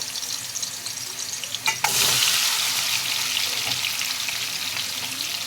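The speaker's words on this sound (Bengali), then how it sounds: "তেল গরম হয়ে গেছে এবার ডিমটা আমি এক এক করে দিয়ে দেবো বড় করে ভেজে নেব" Eggs dropped one by one into hot oil in a wok, a loud crackling sizzle bursting up after a splash and then holding steady and close.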